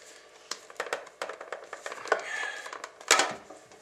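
Scraping and tapping at the bottom of an upturned bullet lubing pan as cast bullets are worked loose, a run of sharp knocks and scrapes, close and fairly quiet, with no talk.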